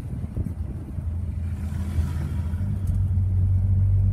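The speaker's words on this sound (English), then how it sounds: "Sounds a little bit different to the standard FJ because of the twin system from the headers coming into the single engine pipe to the muffler." Old Holden FJ car running with twin headers merging into a single pipe to the muffler, a low throaty exhaust rumble that swells louder and steadier toward the end, no voices.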